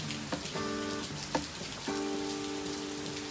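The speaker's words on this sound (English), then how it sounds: "I hope you've heard the rain pouring in the background" Steady rain patters softly in the background while faint melodic tones and a few soft knocks sound over it.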